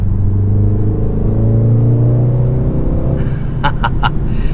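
A 302 hp BMW X2 M35i's engine pulls hard under acceleration, a loud, smooth rising drone that climbs steadily in pitch, then gives way to a brief burst of clattering near the end.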